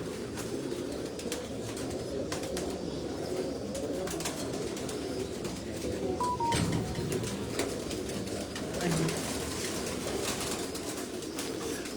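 A flock of pigeons coos steadily on a rooftop, a continuous low murmur of overlapping calls with faint wing flaps and chirps, heard close with no talk.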